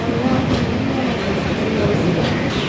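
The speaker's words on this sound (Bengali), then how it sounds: "দুপুর 3:14 ট্রেন এনজিপি স্টেশন ছাড়ছে" A train pulls out of NJP station with a loud, steady rumble and wheel rattle that stays close and constant throughout.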